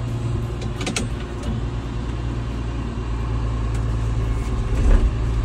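A John Deere 6610 tractor with 7,000 hours on it drives along, its engine giving a steady low drone with a strong rumble that swells slightly toward the end, plus a few faint clicks and rattles.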